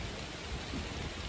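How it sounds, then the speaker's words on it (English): Rain falling outdoors beside the Cumberland Gap marker, a steady soft broadband hiss of drops with no voices. "It's starting to rain"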